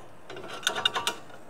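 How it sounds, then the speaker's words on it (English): A clamp tightened on an Evolution EVOSAW180HD metal cutting circular saw gives four quick ratcheting clicks in close succession, close and fairly faint. "let's clamp that in there."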